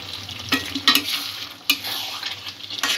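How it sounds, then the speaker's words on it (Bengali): Chicken kalia pieces stirred in a pan with a little water: a steady, close sizzle broken by several sharp spatula scrapes and knocks against the pan. "চিকেনটা কষা হয়ে গেছে। সামান্য জল দিয়ে একটু সেদ্ধ করে নেব।"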